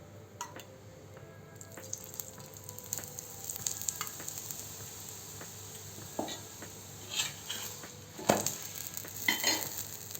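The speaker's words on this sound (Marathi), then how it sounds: "पुन्हा पराठ्याला पलटवून घेऊ आणि तेल घालू।" Aloo paratha frying in oil on a hot pan, a low steady sizzle with scattered crackles and a few louder spits of oil near the end, no talking.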